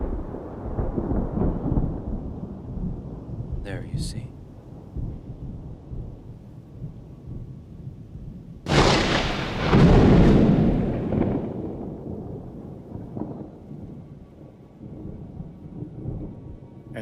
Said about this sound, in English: Whenever he sits, the thunder peals.